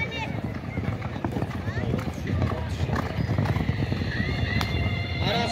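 Racehorses galloping in a horse race, a dense rapid drumming of hooves under a commentator's constant excited talk, loud and close with crowd noise around.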